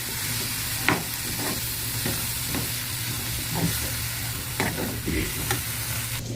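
Food frying in a pan in a home kitchen and being stirred, a steady loud sizzle broken by regular scrapes and knocks of the spoon against the pan, close up, with no talking.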